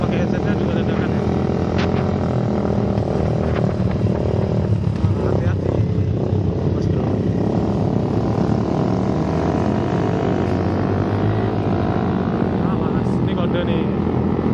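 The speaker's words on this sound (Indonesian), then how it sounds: "suaranya agak noise sama suara knalpot" A motorcycle exhaust drones steadily throughout a ride, with constant wind rumble and a low, unbroken engine note heard up close, while a voice is faintly present underneath.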